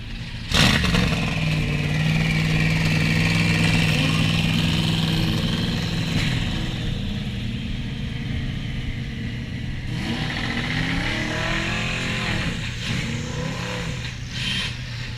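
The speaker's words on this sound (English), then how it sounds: "Another Can-Am car up next, the March Chevrolet 717." A March Chevrolet 717 Can-Am race car at the Goodwood Festival of Speed makes a loud, sustained engine roar that rises and falls as it revs and moves off.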